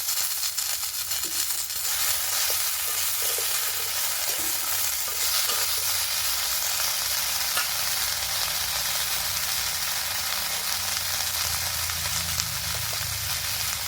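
Vegetables (greens, pumpkin and radish) frying in a wok, a steady loud sizzle with scraping stirring sounds running continuously throughout, close up and without talk.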